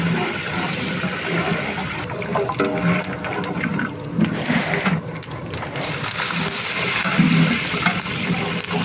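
Curry leaves and crushed pepper hit a large vessel of hot oil for a 500-person batch of oil brinjal, giving a steady loud rushing sizzle with crackling bursts that carry on throughout.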